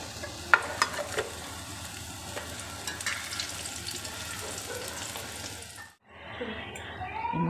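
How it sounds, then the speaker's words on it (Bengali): Raw green banana koftas deep frying in a kadai, a continuous bubbling sizzle of hot oil with a few sharp pops at the start, dropping out briefly before resuming. "এইভাবে আমি পরপর করে সব এগুলো ভেজে নেব"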